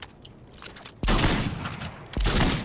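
A lever action shotgun fires in a video game arena, two loud, sharp blasts about a second apart, each with a heavy low-end thump and a lingering crackle, over a busy game background.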